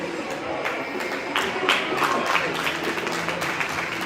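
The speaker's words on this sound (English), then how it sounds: "We have some sarcastic applause from the Dubuque crowd" Scattered sarcastic applause from the Dubuque crowd at a peewee hockey game, a thin patter of clapping that swells briefly in the middle, echoing in an arena with a murmur of crowd noise.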